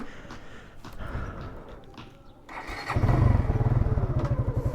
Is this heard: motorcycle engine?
yes